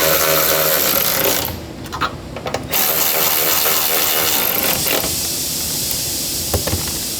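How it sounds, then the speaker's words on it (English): A ratchet wrench tightens the rear tie-down bolt on a bedside rack MOLLE panel on a 2024+ Ford Ranger, giving a close, steady run of fast clicking with short pauses between strokes and no talking. "now I'll tighten up this rear tie down"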